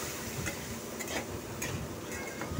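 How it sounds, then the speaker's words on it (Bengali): Masala stirred and fried with a little water in a pan for banana kofta curry, a soft continuous sizzle with faint periodic scrapes of the spoon, no talking. "সামান্য একটু জল দিয়ে কষাবো যাতে মশলাটা তলায় লেগে না যায়"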